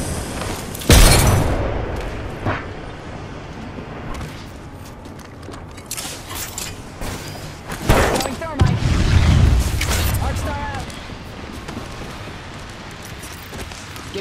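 A grenade explodes in Apex Legends, a heavy close boom followed by further blasts and rumbling gunfire, with occasional voices between the impacts.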